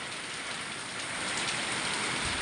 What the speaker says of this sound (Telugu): చూడండి గాలి వర్షం మాకు 2 ఒకసారి వచ్చాయండి.